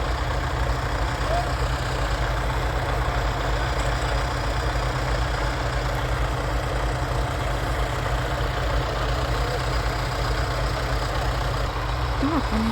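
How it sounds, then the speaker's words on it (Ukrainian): A tractor engine idles steadily in snowy weather, having arrived to pull a car out, a constant low rumble close by throughout with faint speech in the background. "Тепер поки цей трактор приїхав витягати машину"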